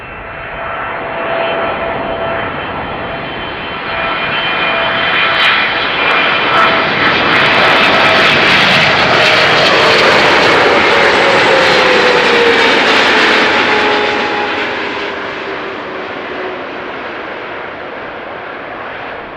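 Jet aircraft engines roar as planes arrive on runway 06 at Amsterdam Schiphol Airport, a loud, close, swelling whine and rumble that builds, peaks and slowly fades as an airliner passes overhead.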